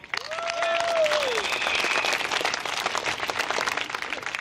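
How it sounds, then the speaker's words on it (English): A crowd at an evening political election rally applauds a speaker with dense, steady clapping that fills the space, with a few whistles rising above it early on. "round of applause for Mr."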